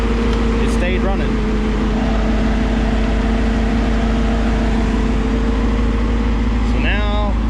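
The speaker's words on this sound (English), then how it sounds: "I sprayed the carburetor again and fired it up and it stayed running" A 1985 Toyota pickup engine, just restarted after carburetor spray, keeps running with a steady, loud drone that holds for the whole stretch. Brief bits of a voice break through near the start and again at the end.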